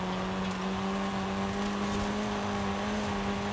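Car engine in the Forza Horizon racing game, a steady droning hum held loud and even throughout with continuous road and exhaust noise; distinct exhaust pops are not clearly separable.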